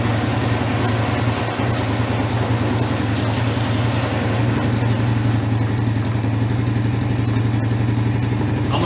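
An ATV engine runs steadily after a bad-gas carburetor problem, primed with starter fluid, giving a loud, continuous low rumble that holds an even idle throughout with no talking.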